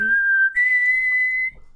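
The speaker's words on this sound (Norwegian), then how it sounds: "Du prøver altså å plystre." A single person whistles a sustained, steady tone, rising slightly in pitch partway through, clear and close with no talk over it before it cuts off.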